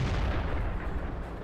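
A tank cannon in the World of Tanks video game fires a single heavy booming shot, loud and close, with a rolling low-frequency tail dying away over about a second and a half.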